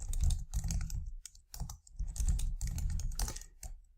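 A password is typed on a computer keyboard in quick bursts of close, crisp key clicks, several clusters separated by short pauses, with no voices.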